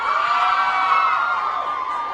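Fans scream for a band at the step-and-repeat on the 2016 JUNO Awards red carpet, a dense, continuous high-pitched roar of shrieking voices holding steady and loud throughout.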